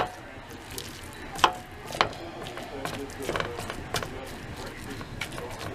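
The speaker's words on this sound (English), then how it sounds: "I'm going to start chopping some onion" A kitchen knife chops onion for a southern-style deer chili, giving a handful of sharp, irregular taps on a board, close and fairly quiet over a soft background hiss.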